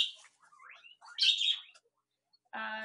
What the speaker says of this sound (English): Hello, little bird.